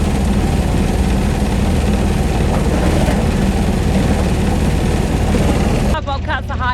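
A Bobcat S250 high-flow skid steer engine runs at full revs with a loud, steady, droning roar that dominates throughout; a voice starts speaking near the end.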